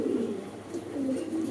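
Imported racing pigeons coo close by, a few low, rolling coos repeating over a soft background with no talking.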